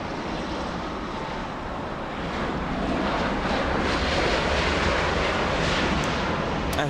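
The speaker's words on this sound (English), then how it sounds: "European cargo, a former Virgin Atlantic A340-600 coming into land" A former Virgin Atlantic Airbus A340-600, now flown by European Cargo, comes in to land at LAX. Its engines make a broad, steady roar mixed with wind noise, growing slightly louder over the seven seconds. No speech is heard.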